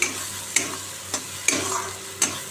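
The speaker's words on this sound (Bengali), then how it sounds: "ভালো করে আমি এটা একদম তেল দিয়ে ভালো করে ভেজে নিলাম" Spice paste frying in oil in a pan, a close steady sizzle punctuated by four sharp spatula scrapes as it is stirred, no voices.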